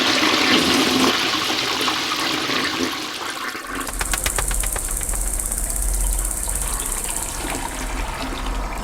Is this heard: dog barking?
no